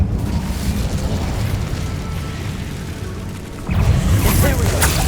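The Incendio fire spell cast in Hogwarts Legacy, a loud rumbling fiery whoosh that swells, dips, then flares again in a bright burst near the end.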